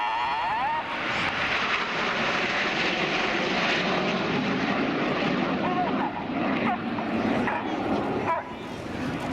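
RAF Red Arrows jets fly in formation in line astern at an airshow, their loud continuous engine roar filling the whole stretch with a steady, slightly shifting rumble.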